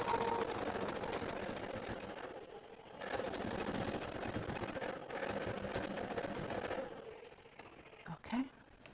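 A longarm quilting sewing machine stitches with a fast, even mechanical whir that runs in bursts with short pauses. Near the end it slows and gives way to a few scattered clicks.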